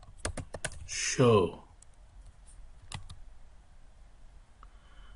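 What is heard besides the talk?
typing a command on a computer keyboard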